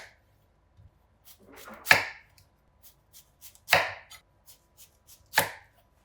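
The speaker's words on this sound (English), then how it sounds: "we're going to cut this into about 1 inch thick round slices" A knife cutting a daikon into thick round slices on a cutting board, three loud, distinct chops spaced about two seconds apart with faint taps in between.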